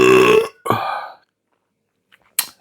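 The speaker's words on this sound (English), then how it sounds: "Here comes the burp." A loud, close burp after drinking a double IPA ale comes in two throaty bursts, followed by near silence and a faint short sound at the end.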